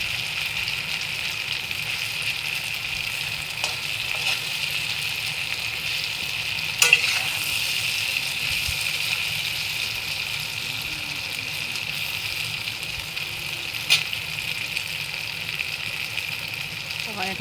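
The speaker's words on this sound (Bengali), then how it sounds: "আমি আলুটাকে আরও বেজে নেব একদম লাল লাল করে এখন আমি গ্যাসের আঁচটাকে আমি বাড়িয়ে দিয়েছি" Potatoes fry in a kadai over a high gas flame, giving a steady sizzle with a low hum beneath it and a couple of sharp stirring knocks.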